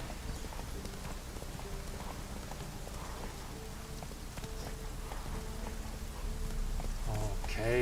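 Hooves of the horse Roach clip-clopping at a steady walking pace over wet ground in The Witcher 3, soft and fairly close, with light rain pattering behind and no talk.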